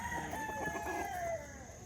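A rooster crows in a long drawn-out call, with other fowl clucking faintly in the background.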